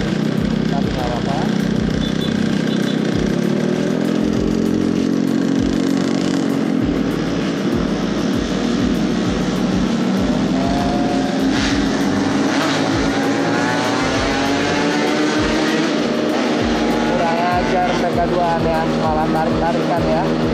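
A rough, buzzing two-stroke engine of a Vespa Sprint V scooter drones continuously while riding, with a person talking over it throughout.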